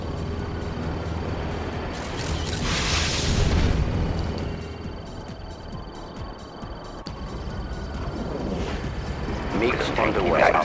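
MiG airstrike in Red Alert 2, a rumbling explosive burst followed later by further blasts and crackling debris, set against steady battle ambience with voices speaking over it.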